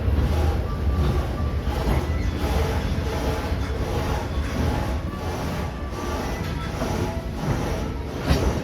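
A Walt Disney World Railroad steam train rolls into a Frontierland station at the Magic Kingdom, with a loud, steady rumble of wheels and carriages, close and continuous, with faint rhythmic rail clatter throughout.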